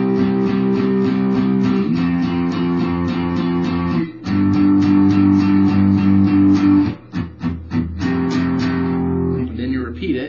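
Guitar slowly playing the intro riff of Blink-182's All The Small Things, steady repeated chords ringing clearly and close for about ten seconds, with a brief break near the middle.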